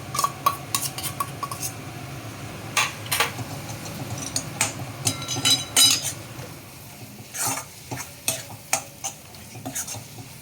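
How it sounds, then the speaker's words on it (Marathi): Masala paste being sautéed and stirred in a pan for a spiced ambadi (sorrel leaf) vegetable dish: repeated spoon scrapes and clinks over a soft steady sizzle, close and moderately loud, with no talking. "आता आपण यात वाटप मी जे केलं होतं ते घालून घेते मी आणि ते वाटपसुद्धा मी थोडं परतून घेणार"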